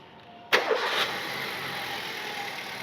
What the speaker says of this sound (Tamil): வெஹிக்கிள் ஸ்டார்ட் பண்ணியாச்சு.